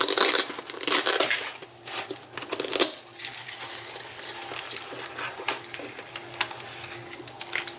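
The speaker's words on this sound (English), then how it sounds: "so there's some crinkle paper" Crinkle paper shreds are handled and scrunched close up, giving a steady run of dry rustling and crackling with louder bursts at the start.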